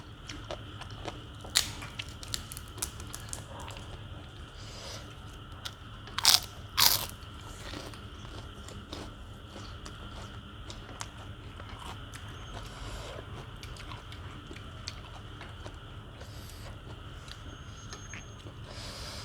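Crispy pork rinds eaten with pork noodles crunch in a few sharp, close bites, clustered near the start and middle, between long quiet stretches of faint chewing and soft background noise.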